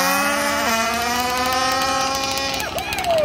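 A 1/5 scale RC dragster races past, its small engine a loud, steady high-pitched whine that shifts pitch as it speeds by, close to the listener.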